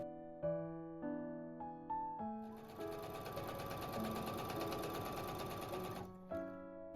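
A sewing machine runs steadily for about three and a half seconds, stitching a pocket back onto dress fabric with right sides together. Several short musical tones come before and after the stitching.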